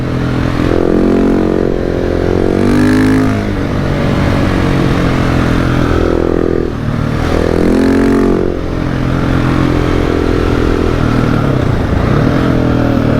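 A 2019 KTM 690 SMCR single-cylinder motorcycle revving hard during wheelies, loud and close, with the engine note rising and falling in repeated surges over wind noise.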